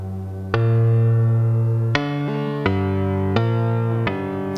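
Sustained metallic, clangorous ring-modulated tones from a Eurorack modular synth, with a ring-like inharmonic timbre, struck in a series of sharp retriggered notes over a steady drone.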